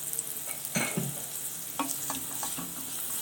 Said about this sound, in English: Fry these masalas in that oil itself.